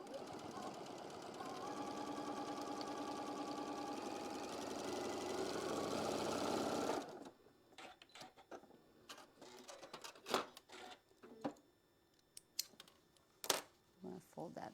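A sewing machine stitches quilt block pieces together in a steady, moderately close hum for about seven seconds, then falls quiet apart from scattered clicks and fabric handling.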